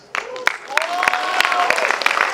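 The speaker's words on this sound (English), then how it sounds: "Lekhinee Desai, with a round of applause, and she is going to share her experiences." A round of applause from students at a college event in India, rising quickly into steady clapping beneath a speaker's voice over amplified sound.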